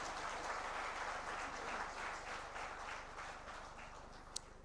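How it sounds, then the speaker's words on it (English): A large audience claps steadily at the inaugural session of an annual management convention in India, a dense, sustained wash of applause with one brief sharp click near the end. "one round of applause for all of them on the dais now."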